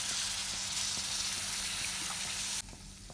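Mango pickle masala sizzles in oil as two tablespoons of vinegar are poured in, a steady bright hiss throughout that drops abruptly to a quieter simmer near the end.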